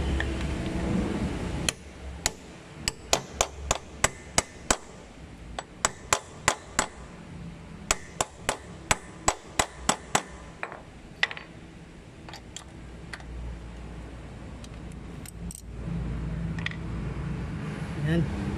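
Sharp metallic hammer blows drive a 16 mm socket onto a rounded 17 mm oil drain plug nut, with a long run of fairly regular, loud strikes and a few scattered taps, while someone talks under and between them.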